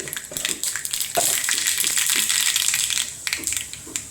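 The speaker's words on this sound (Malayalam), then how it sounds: "കുറച്ച് കടുക് ഇട്ട് കൊടുക്കാം. കടുക് പൊട്ടി" Mustard seeds splutter in hot oil in a pan, a dense crackle of rapid pops and spits that swells to a sustained sizzle, close and fairly loud, with no talking.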